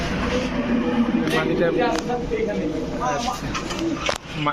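Mili Racer pigeons cooing at a pigeon market, soft throaty coos and wing sounds close by, mixed with someone talking over them and a busy background murmur.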